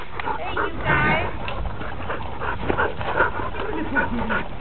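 A playful dog barks and yips in short bursts, panting and whimpering between them close by, while a person talks over the play.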